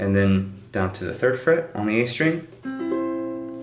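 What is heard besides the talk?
No everyday noise stands out behind the speech.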